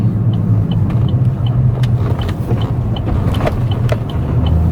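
A 2012 Chevrolet Camaro SS's 6.2-liter LS3 V8 engine drones steadily while driving, a deep, continuous low rumble, loud and close, with faint clicks and ticks scattered above it.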